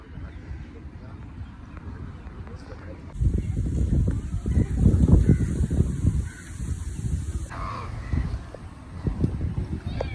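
Crows caw from above in Riyam Park, harsh calls repeating over a busy outdoor background, with people talking nearby and a high steady tone appearing partway through.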